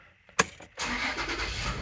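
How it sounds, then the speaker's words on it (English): A Toyota 4Runner engine starts up close by, with a brief starter crank followed by the engine catching and settling into a steady running rumble. "Going to start the car."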